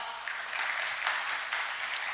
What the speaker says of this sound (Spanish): Denle otro aplauso a los papás.